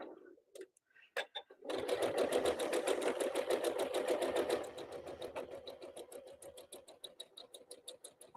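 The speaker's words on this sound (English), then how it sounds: "So we're going to start sewing this one." Sewing machine stitching through fabric, starting with a few short taps before running in a steady fast rhythmic whir, then slowing into uneven bursts of stitching near the end.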